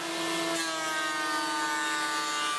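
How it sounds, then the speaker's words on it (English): A surface planer runs steadily as it planes a cupped wood board flat, giving a continuous loud machine whine with strong steady tonal hum and a broadband cutting roar throughout, with no talk. "Then I'm able to run it through my surface planer to get rid of any cupping."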